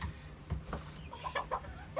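A Hamburg bantam rooster, spangled variety, gives a few soft clucks and short calls, fairly faint, with quiet background noise between them.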